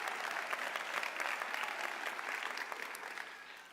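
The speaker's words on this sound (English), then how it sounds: "Yes, that deserves a round of applause." Audience applause at an Oklahoma City Community College health professions commencement ceremony, a dense sustained crowd clapping that slowly fades toward the end.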